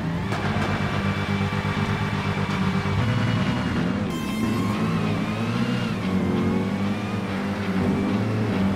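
Dodge Hellcat cars in GTA 5 accelerating hard off the start line of a race, a loud, continuous engine roar with rising revs and gear changes, close up and with no talk.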